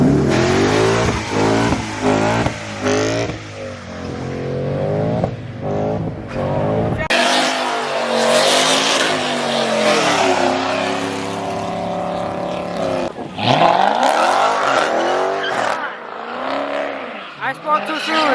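Four-cylinder Ford Mustang at a Mustang car show doing a burnout, loud engine revving in repeated surges with harsh tire noise, crowd voices and talk mixed in throughout.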